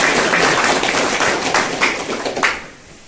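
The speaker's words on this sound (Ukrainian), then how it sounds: "Давайте нагородимо їх оплесками." Audience applause at an exhibition opening, a dense patter of many hands clapping that swells with a few sharper claps before fading away toward the end.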